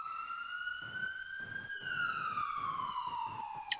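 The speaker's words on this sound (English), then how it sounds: "Again, ambulance sirens echo loud in the distance, and all the Sioux and Buffalo Bill stop for" An ambulance siren wails steadily in the distance in Salford with a slowly rising then falling pitch, fairly prominent over a low rumble of traffic, with a brief click near the end.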